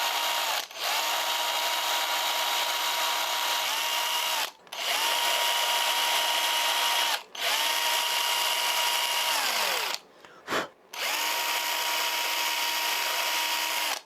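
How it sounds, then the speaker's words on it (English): Power drill boring holes into a wooden frog fishing lure body for the legs and hook hanger, a steady whining run in several long bursts broken by short pauses, loud and close with no talk. "I need to drill the 2 holes for the legs and re-drill the hook hanger hole."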